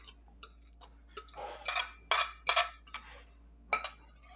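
A utensil stirs banana pancake batter in a bowl, producing intermittent scrapes and clinks that build into a few louder, brisk bursts, close and otherwise quiet.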